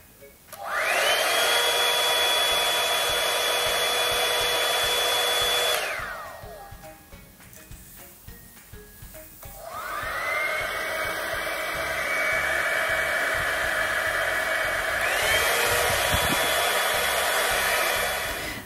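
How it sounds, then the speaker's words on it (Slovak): A Philips 5000 Air Styler 5-in-1 hair dryer with its classic nozzle blows with a steady high whine, running close and loud for several seconds, stopping, then starting again and shifting to a higher setting. "Takže ukážme si hlučnosť fénu."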